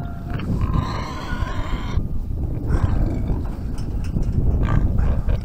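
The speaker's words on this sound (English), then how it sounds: "that's our butcher pig" A butcher pig on a farm grunts and squeals loudly in repeated rough bursts, close by, with other farm animal noise around and no talk.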